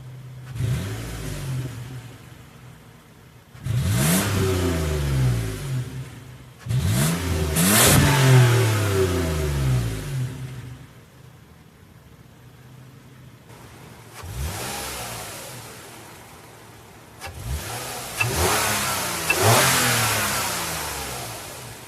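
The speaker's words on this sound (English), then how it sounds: "hop inside, do a few revs, and see how it sounds" A 2014 Toyota Sienna XLE minivan's engine, heard from inside the cabin, revs in about four distinct bursts, each climbing and falling back to a quieter idle between, fairly loud and with no talking.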